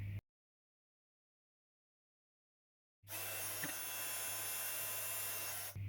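A heat gun blows steadily while heat embossing silver powder on spare black cardstock, switching on after a few seconds of silence and then holding a constant close, loud whoosh.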